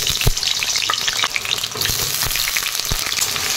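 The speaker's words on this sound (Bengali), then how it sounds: "আলুটা আমি ভালো করে ভেজে নেব" Potatoes fry in hot mustard oil in a wok, giving a loud, continuous sizzle broken by irregular crackles and the scrape of stirring, with no voices.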